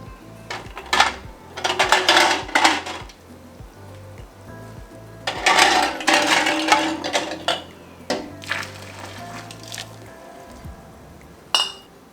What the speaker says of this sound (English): I'm going to take my jars out and fill them up with all of this delicious soup.